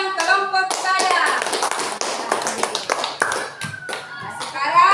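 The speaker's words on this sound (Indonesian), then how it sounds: "Tepuk tangan untuk perwakilan kelompok ibadah." Children clap their hands in a classroom religion lesson, a quick scattered burst of claps mixed with kids' voices and chatter.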